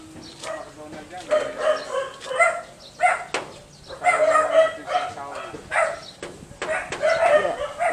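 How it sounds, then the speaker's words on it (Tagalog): Several dogs bark and yip repeatedly in a quiet neighbourhood, sharp overlapping barks coming in irregular bursts at moderate distance, with people talking alongside. "It's a quiet place here, but there's a lot of dog barking."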